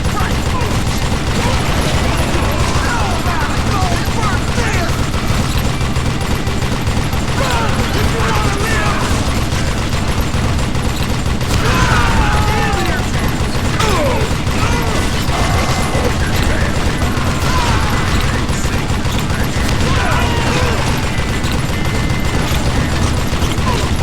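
Gunfire in the Call of Juarez: Gunslinger video game, a dense, continuous barrage of shots and mechanical clatter at steady high volume, with a voice talking over parts of it.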